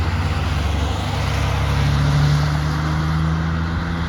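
A Porsche and a BMW M4 drive past on a damp Nürburgring circuit at moderate pace, their engines making a steady continuous drone with a low rumble that swells slightly midway, with no talking.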